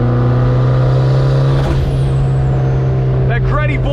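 A built turbocharged Mazda Miata with a Greddy blow-off valve drones loudly under steady engine note, then releases sharp hissing bursts of boost near the end, heard from inside the car.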